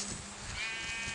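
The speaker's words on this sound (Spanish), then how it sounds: "Una ovejita, no sé si las ovejitas te den lana, pero la mataré de todos modos." A Minecraft Pocket Edition sheep bleats as it is attacked, a short nasal bleat heard close over a steady hiss of game background noise.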